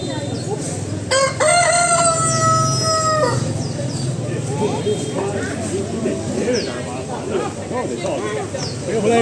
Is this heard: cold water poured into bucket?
no